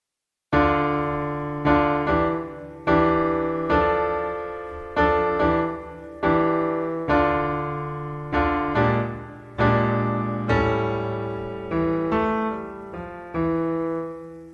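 Solo piano plays the introduction to a song in a late-beginner arrangement, slow chords and single notes struck one after another, each ringing and decaying, close and clear with no voices.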